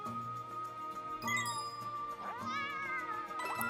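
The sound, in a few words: cat meowing in video game Bowser's Fury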